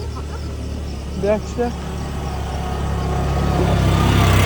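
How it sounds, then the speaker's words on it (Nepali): A tempo approaches on a mountain road during a hike, its engine rumble slowly growing louder toward the end beneath nearby voices. "टेम्पू त आउँदो रहेछ।"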